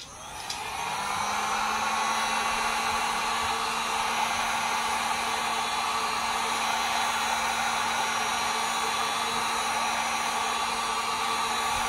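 A heat gun blows steadily and loudly while warming the top of a tumbler, a constant airy whoosh with a faint hum that starts within the first second and runs unbroken to the end.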